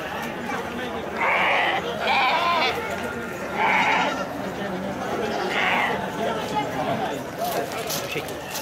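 Several goats tied to posts and fences at a livestock market in Nizwa, Oman bleat loudly in short, repeated calls, with a busy murmur of crowd chatter underneath.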